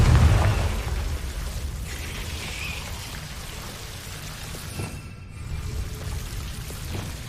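A Confringo blast spell cast in the video game Hogwarts Legacy: a heavy, booming burst at the start, followed by a rumbling, crackling tail that lingers over steady game ambience.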